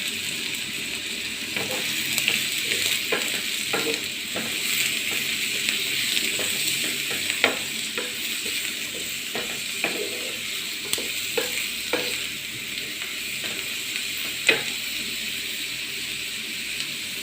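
Finely chopped onion, ginger and curry leaves fry in a pan with a steady close sizzle, punctuated by repeated scraping clicks of a spoon stirring.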